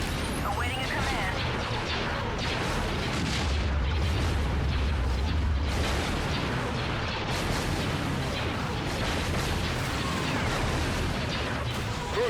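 Starship cannon fire in a Star Wars Empire at War remake mod battle, dense continuous barrage of blasts and booms rumbling throughout, loud and chaotic.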